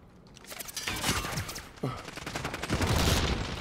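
Gunfire in Call of Duty Modern Warfare: rapid bursts of shots crack in quick succession, loud and close, with a sharp report partway through and denser firing toward the end, and no talk.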